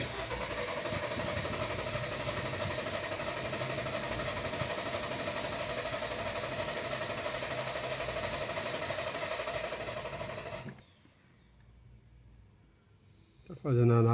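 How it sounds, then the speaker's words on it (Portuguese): A Jeep Compass with a cylinder misfire fault runs at a steady, loud engine drone for about ten seconds during a relative compression test, then cuts out abruptly into near silence before a brief loud burst at the end. "Partida no motor."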